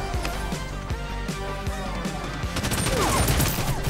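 SMG fire in the battle royale video game Realm Royale crackles in rapid, dense bursts alongside other game effects, with a voice briefly heard near the end.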